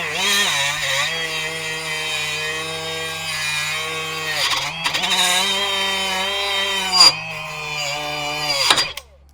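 A Ryobi 18V cordless die grinder whines steadily at close range for about nine seconds, its pitch dipping and rising as the throttle is feathered, with a few brief louder scrapes near the end.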